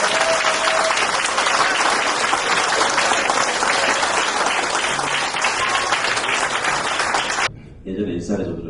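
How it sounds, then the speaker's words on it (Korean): A Korean audience applauds speakers, including a National Assembly member, taking the stage for a talk. The loud, dense clapping fills most of the clip, then stops abruptly, and a short burst of speech follows. "힘찬 박수로 맞으십시오."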